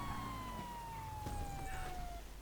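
A faint police siren in Grand Theft Auto 5 wails with a slowly falling tone over a low engine rumble, sounding distant and somewhat synthetic, during a police chase.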